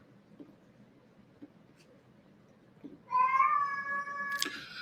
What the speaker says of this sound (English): if you hear any moaning in the background, it's my cat that's looking for a lot of attention right now.